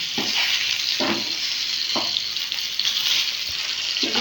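Brinjal fries in a pan of hot oil with a steady, close sizzle. A spatula stirs the pieces in a few evenly spaced scraping strokes about once a second. No voices.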